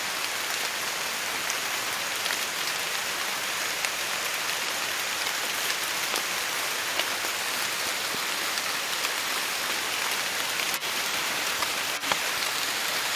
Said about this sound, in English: the rain is starting to fall